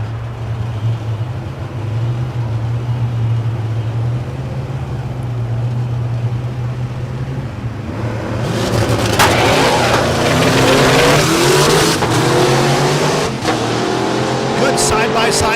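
A 1965 GTO and a 1966 Fairlane drag racing side by side at a strip: a low engine drone under a commentator's voice, then loud roaring engines surging partway through with sharp bursts.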